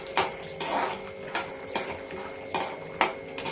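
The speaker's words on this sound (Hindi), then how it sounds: "बादाम हमारे चटकने लगे" Almonds crackling in ghee in a kadai while stirring with a spoon: soft sizzle under repeated metal scrapes and clinks against the pan, steady and close, with no talking.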